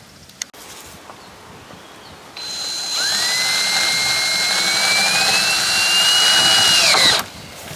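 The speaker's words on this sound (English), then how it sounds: "I'm screwing them in from the bottom" A cordless power drill drives screws up from underneath into the posts of a garden tiki bar, a rising high whine that spins up, holds for several seconds and then cuts off, loud and near.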